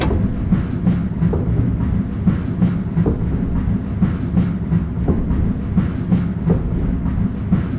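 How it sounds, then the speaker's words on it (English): A MARC passenger train runs on rails from Washington DC toward Philadelphia during Tropical Storm Ophelia, with loud, steady rumbling and regular clickety-clack wheel beats heard from on board, no talk. "the leaves are getting crushed underneath the wheels of the train and creating all that oil, and that oil causes slippage"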